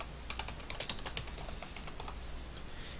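Rapid keystrokes clatter on a computer keyboard, a quick burst of closely spaced clicks that thins out into a few scattered taps, near and moderately quiet.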